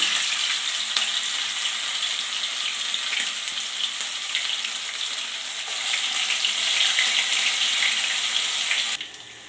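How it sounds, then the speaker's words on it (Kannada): Chicken pieces marinated for tandoori-style fry crackle and sizzle in hot oil in a kadai over a slow flame, a loud continuous hiss with fine popping throughout, cutting off abruptly at the end. "ಒಂದು ಕಡಾಯಲ್ಲಿ ಎಣ್ಣೆ ಕಾಯ್ತಾ ಇದೆ. ಚೆನ್ನಾಗಿ ಕಾದಿದ ನಂತರ ಒಂದೊಂದು ಪೀಸಾಗಿ ಹಾಕ್ಕೊಳ್ಳಿ."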